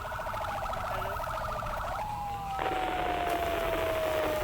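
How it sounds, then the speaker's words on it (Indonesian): A puskesmas ambulance siren sounding during an emergency drill, a two-tone wail switching to a sweeping tone, steady and moderately loud over background noise. "Ambulan dari puskesmas datang untuk menangani korban"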